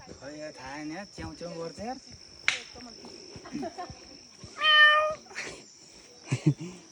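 A cat meows several times in short wavering cries over a steady high chirping of crickets, with a sharp snap and a few nearby sounds.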